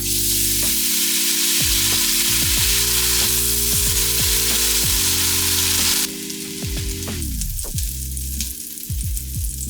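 Enoki mushrooms sizzle and fry in hot sesame oil in a pan already seasoned from marinated tofu, a steady loud crackle that thins and quiets partway through, with a music bed playing underneath.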